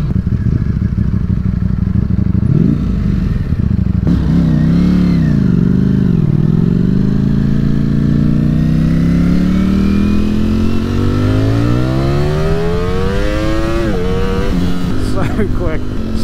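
Ducati Streetfighter V4 or Aprilia Tuono V4 Factory sport motorcycle ridden hard, its V4 engine loud and close, revving up through the gears with rising and falling pitch sweeps under steady wind rush.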